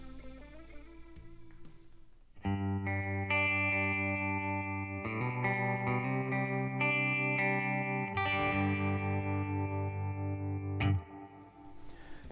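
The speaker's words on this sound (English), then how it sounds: "We're going to start right here with a Fender Deluxe reverb." A guitar plays through a 1960s Fender Deluxe Reverb amp, starting with quiet picking and then moving into loud, ringing chords with slightly broken-up tone that sustain for several seconds before fading.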